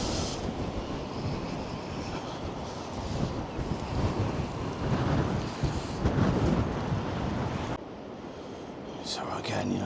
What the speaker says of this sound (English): that wind, I don't know if you can hear it on the microphone, but it's certainly getting stronger